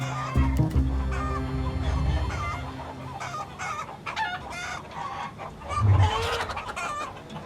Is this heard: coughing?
no